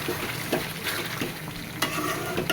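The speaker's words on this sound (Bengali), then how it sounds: "নাড়া দিতে হবে, একটু ঘন ঘন, যাতে তলায় লেগে না যায়।" Meat frying in a pan at night, stirred with a utensil: steady close sizzle throughout, with several distinct scraping stirs across the pan bottom at irregular intervals, no talking.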